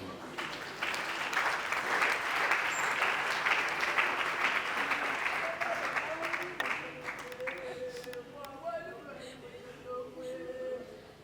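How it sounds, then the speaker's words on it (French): Applause and cheering from an audience at a French-language Christian gathering, a loud sustained wash of clapping that fades over several seconds as a voice and music-like tones emerge. "Est-ce qu'on peut acclamer Dieu?"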